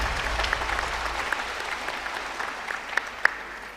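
Audience applause at a hospital's 25th anniversary celebration: a steady, fairly soft patter of many hands clapping across the room, with a few sharper, closer claps standing out near the end.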